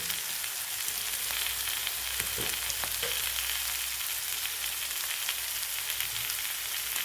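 Boiled elephant foot yam and tomato pieces sizzle steadily in a pan over medium heat, a continuous dense frying hiss with a few small pops and stirring scrapes, close and fairly loud, with no talking.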